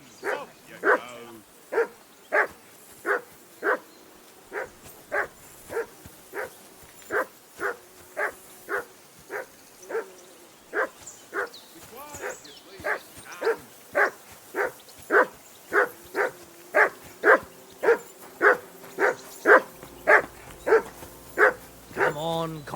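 Steady, rhythmic barking from a dog in Kingdom Come: Deliverance 2, around thirty loud, evenly spaced barks over twenty seconds, with faint whimpering and game ambience underneath.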